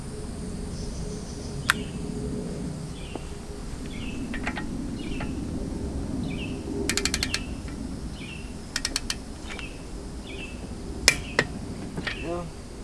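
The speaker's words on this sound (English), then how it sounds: "Then we're going to torque it down" A torque wrench tightens wheel bolts on a BMW F30 fitted with wheel spacers and a stud conversion kit, set to 105 foot-pounds. Sharp, isolated clicks come singly and in quick clusters over soft outdoor insect and bird chirping.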